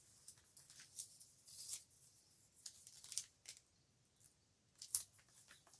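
Scissors snip paper in a series of quick, close, soft crisp cuts, irregular in rhythm, with one sharper snip near the end, in an otherwise quiet room.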